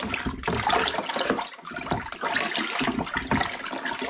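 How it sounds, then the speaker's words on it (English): Mango pulp and liquid, 1.2 litres of mango, sloshing and swirling inside a bottle while brewing mango and ginger cider; a continuous churning, gurgling wash of liquid, fairly close and steady with brief dips. "I'm just giving it a nice mix around"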